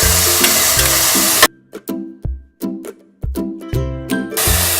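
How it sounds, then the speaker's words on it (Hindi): Ginger garlic paste, green chili, salt and vegetable pulao ingredients with paneer and peas are tossed in a pan, giving loud sizzling frying broken by a pause and several sharp scraping stirs before the sizzle resumes. "सारी चीजें अच्छे से हमने मिला ली है।"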